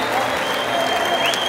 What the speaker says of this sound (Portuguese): Uma salva de palmas para as rainhas.